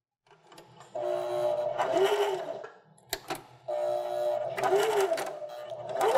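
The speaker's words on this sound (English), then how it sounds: "So we'll stitch it with a 1/4 inch seam allowance along three sides" A sewing machine runs a 1/4 inch seam along a sunglasses case, with two sustained bursts of rapid mechanical whirring separated by a short pause and a few clicks.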